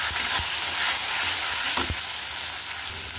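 Masala with yogurt, poppy seed and cashew paste sizzles steadily in a hot pan, a dense continuous frying hiss broken by a couple of soft scraping stirs.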